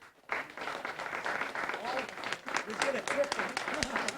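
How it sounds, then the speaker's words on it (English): A fairly quiet round of clapping from an awards ceremony audience for the finalists, starting abruptly after a short pause and continuing steadily, with some voices mixed in. "I'd like you to give give our finalists a good round of applause"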